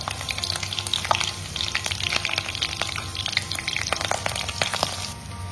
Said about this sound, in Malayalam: നമുക്ക് ആദ്യം അല്പം പച്ചമുളക് ഒന്ന് വറുത്ത് കോരിയെടുക്കാം.